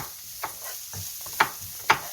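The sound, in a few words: stirring pumpkin and onions for soft tofu stew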